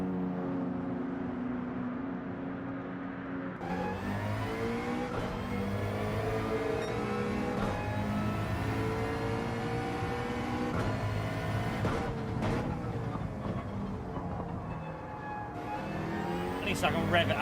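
A race car's engine revving in Gran Turismo 7, a loud, sustained whine climbing and falling through the gears, with brief shifts and a final surge, while someone talks over it.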